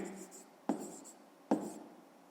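Pen writing an answer in a fifth-grade maths exercise, a few soft scratching strokes marked by two sharper taps, close and quiet, with no talk over them.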